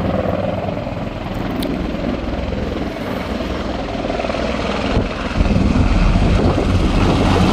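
A toy helicopter flies close by at a rainy fishing spot, its rotor giving a loud, steady whirring drone that swells slightly toward the end.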